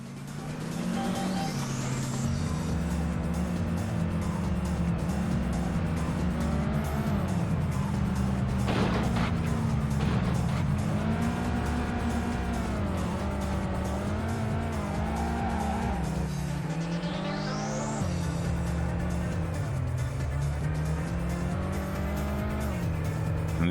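V6 turbo car engine in the PS1 racing game Vanishing Point, a steady loud drone that rises and falls with throttle and gear changes, with tire squeals and skids over it, heard alone throughout.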